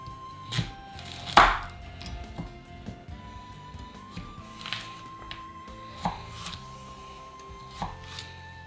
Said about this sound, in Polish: No i kroję w kostkę nie za dużą.